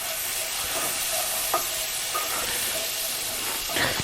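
Minced garlic fries in a hot pan for shrimp scampi, a loud continuous sizzle and hiss with brief stirring scrapes close by.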